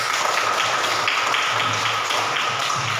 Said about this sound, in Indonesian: Kalau tidak ada tepuk tangan buat Pascal